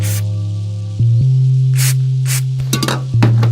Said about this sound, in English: I'm just going to stick the straw in this little main hole and try and spray it the best as possible